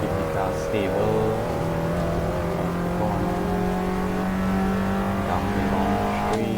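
In Assetto Corsa, a simulated Abarth 500 with an overheating engine accelerates down a long straight. A steady, buzzing engine note climbs in pitch through the gears and stays loud and continuous throughout.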